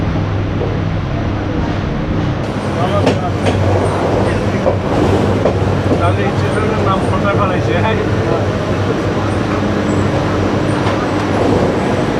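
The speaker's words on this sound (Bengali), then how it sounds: "ট্রেন এসে দাঁড়ালো ফেনী স্টেশনে" The Mahanagar Godhuli Express on the Dhaka–Chattogram route pulls into Feni station with a loud, continuous rumble and rattling carriage clatter, while murmuring voices can be heard in the background.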